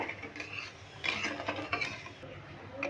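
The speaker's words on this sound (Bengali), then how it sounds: "এইভাবে নেড়ে চেড়ে আমি চিনিটাকে গলিয়ে নিলাম" Sugar being stirred in a pan to melt it while making raw mango murabba, a steady scraping, rasping stir of spoon against metal, close and continuous with a few louder strokes, no talking.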